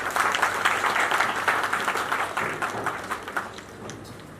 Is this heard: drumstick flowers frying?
no